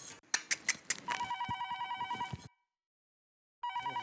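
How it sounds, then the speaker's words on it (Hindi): A telephone rings in bursts inside a home, a steady warbling electronic ring that follows some clattering handling noises, stops for about a second, then starts again. "फोन आया।"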